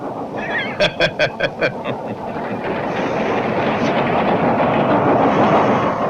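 A running train is heard from close by: a series of short, evenly spaced tonal beeps comes first, then a steady, loud rumble of the moving carriages continues throughout.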